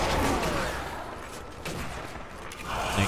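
Gunfire from the zombie shooter game Zombie Army Trilogy, a dense sustained stretch of rapid shots and crackling bursts that swell at the start and end, with no talking.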